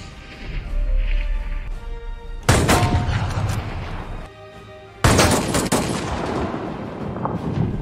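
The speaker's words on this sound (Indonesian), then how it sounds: "Martin memberi Jack percobaan 3 tembakan di tengah papan target." Two sharp, booming sniper rifle shots fired at a target ring out a few seconds apart, each with a lingering echo over a soft tonal film-score bed, from the film Jack Reacher.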